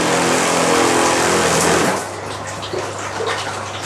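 A cheap 12V mini pressure washer runs with a loud, steady hiss of spraying water and a pump hum for about two seconds, then cuts off to a quieter background with faint knocks.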